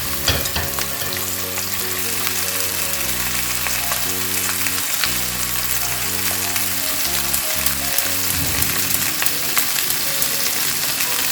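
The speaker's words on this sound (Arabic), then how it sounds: "على نار عالية في طاسة سخنة هنحط شوية زيت، وهنشوح الفراخ على الوشين لحد ما يحمروا" Chicken searing in oil in a hot pan over high heat, cooked for a chicken and potato casserole: a loud, continuous sizzle throughout, layered under background music.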